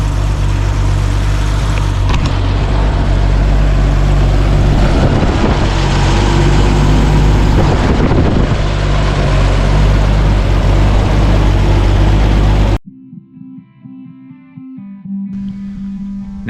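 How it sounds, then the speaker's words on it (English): The engine of a 1983 Toyota Land Cruiser FJ60 runs loud and steady at close range for about twelve seconds, then cuts abruptly to a quiet musical passage. "Now that the motor is running nice and smooth"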